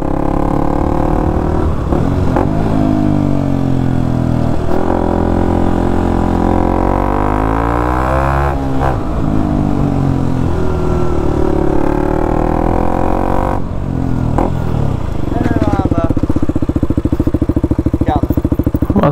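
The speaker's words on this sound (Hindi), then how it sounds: "भाई आवाज क्या गूंज रही यार पहाड़ों में बाइक की।" KTM motorcycle with a loud aftermarket exhaust revving repeatedly in the mountains, its deep harmonic engine note rising and falling throughout and echoing off the hills, with voices talking over it.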